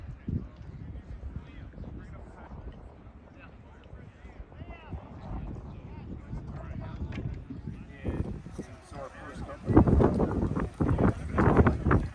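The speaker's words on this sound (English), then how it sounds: "Apologize for the wind." Gusty wind buffets the microphone in low rumbling bursts at a Civil War reenactment at Sailor's Creek, growing stronger toward the end, while people talk in the background.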